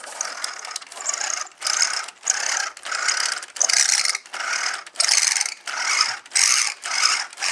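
An Axial Wraith RC crawler fitted with a brushless motor runs in a steady series of roughly one-second mechanical bursts, a loud gear-and-ratchet whir that pulses on and off close by, with no voices.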